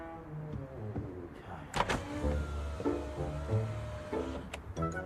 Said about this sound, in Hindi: बस इसका शीशा थोड़ा सा नीचे कर लो।